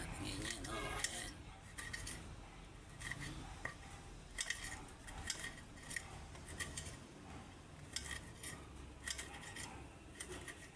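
A knife slicing about five chili peppers on a board, giving a run of quiet, crisp cuts and clicks at an uneven rhythm, with some faint background sound in a home kitchen.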